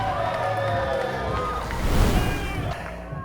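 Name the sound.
wrestling crowd cheering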